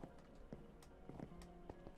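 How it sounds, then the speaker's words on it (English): Skeleton horse hoofsteps in Minecraft, a few soft clip-clop thuds spaced irregularly over steady background game noise. "I just kill the skeletons on them and boom, skeleton horses."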